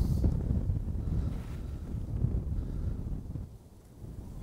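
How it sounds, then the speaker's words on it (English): Strong, steady wind during Storm Gerrit at Martham Staithe roars and buffets against the microphone, a continuous low rumble with no voices. "That is really windy out here."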